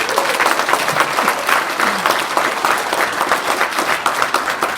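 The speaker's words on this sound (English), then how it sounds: "So give them a round of applause for that." An audience at a fraternity chapter's Founders Day event claps in dense, sustained applause that holds steady and loud throughout, with no voices over it.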